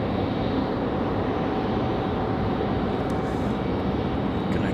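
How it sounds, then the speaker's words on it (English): Alaska Airlines airplane climbing out after takeoff from Raleigh-Durham on a windy day, a steady, even jet rumble with a thin tonal hum, moderately loud and unbroken, with no talk. "Gonna continue to follow Alaska Airlines up the hill."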